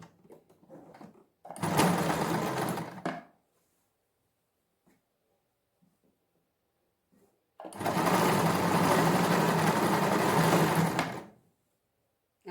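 A sewing machine stitches lace onto a sleeve in two close, loud bursts of rapid mechanical whirring, a short one and then a longer run, with quiet pauses around them.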